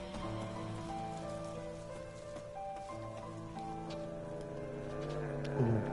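Rain falls steadily in the video game Night in the Woods, a soft continuous patter mixed with gentle background music throughout.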